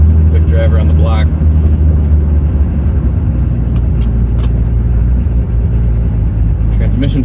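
A car with a freshly swapped-in Grannas T56 Magnum manual transmission on a quick drive around the block, its engine and road rumble steady and close throughout, with a voice talking over it.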